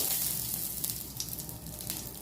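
Cinnamon, a dried red chilli and bay leaves fry in hot oil left over from frying fish, giving a continuous close sizzle with small crackles and spits and no voices.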